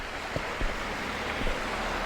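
Small waterfall spilling into a pond beside a lodging patio, a steady, close, broadband rush of falling water with faint knocks over it.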